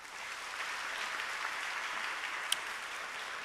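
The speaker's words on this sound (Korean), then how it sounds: "박수로 격려하시며 모시겠습니다." Steady, even applause from a church congregation welcoming a pastor to the pulpit at a Sunday worship service, a soft continuous patter from a distance that holds level for several seconds.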